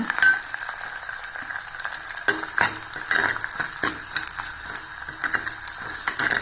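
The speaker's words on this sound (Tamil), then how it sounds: "பூண்டு வெங்காயத்தை நல்லா வதங்கணுங்க." Garlic and onion sauté in a pan for a tamarind curry, with a constant close sizzle and frequent spoon stirring and scraping against the pan, with no talk.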